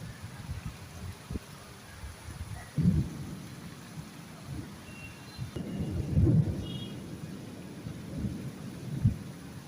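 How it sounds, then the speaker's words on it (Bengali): Heavy rain falls steadily after a spell of hot weather, with soft rumbles of thunder rising now and then beneath the hiss, fairly quiet overall. "এসে গেছে বৃষ্টি অলরেডি"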